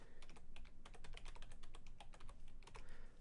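Quiet, rapid keystrokes on a computer keyboard as a password is entered, an irregular run of light clicks lasting a few seconds, with no speech.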